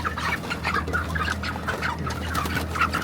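A flock of broiler chickens raised on home-made feed clucks continuously at close range, busy overlapping calls over a low steady hum.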